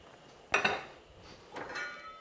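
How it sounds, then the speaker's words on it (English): Mussels stirred into a cioppino seafood stew in a pot, with a sharp clattering scrape of shells against metal followed by a second softer rattle, close and moderately loud. "give it a quick stir just to kind of make sure everything is submerged"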